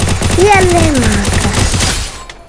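Rapid automatic gunfire from a shooting video game crackles in dense bursts throughout, with someone commentator talking over it and a brief rising tone mid-way.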